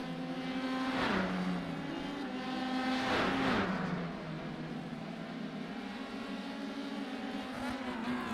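A Formula One race car circles with its front wing missing, the high engine note swelling and dipping as it passes twice in quick succession, then settling into a steady distant drone.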